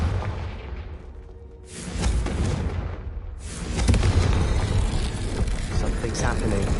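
A Confringo blasting spell goes off in Hogwarts Legacy, bringing deep booming explosions and rumbling bursts that build in loudness, with some whooshing and game voices underneath.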